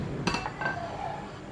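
A knife slices a cooked egg on a kitchen cutting board into strips the same size as cut cucumber and carrot, with a couple of light, close taps and clinks of the blade against the board and no talking.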